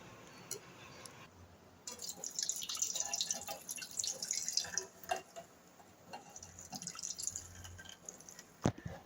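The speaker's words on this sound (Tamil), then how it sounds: "தண்ணியெல்லாம் வடித்து எடுத்துட்டு பாக்கியும் இதே மாதிரி ஒயிட் கிளாத்தில் விட்டு வடிச்சிடுங்க" Whey water drains and drips from curdled milk strained through a white cloth while making homemade paneer, giving faint, irregular trickles and drips close by, with a louder splash near the end.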